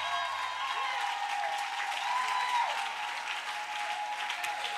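A church congregation claps and cheers in praise during a Sunday service, a steady dense wash of applause from a crowd filling the room without pause.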